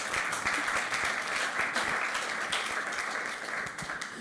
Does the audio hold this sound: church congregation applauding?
yes